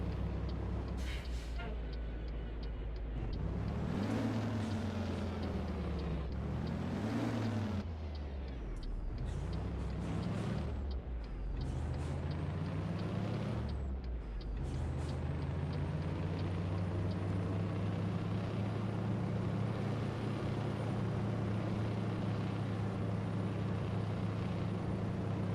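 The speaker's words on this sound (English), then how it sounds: "Sure hear that exhaust, boys." A heavy truck engine in American Truck Simulator drones loudly with a deep rumbling exhaust, rising and falling through several gear changes before settling into a steady roar.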